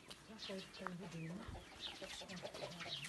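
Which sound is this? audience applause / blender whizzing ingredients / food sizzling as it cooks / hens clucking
hens clucking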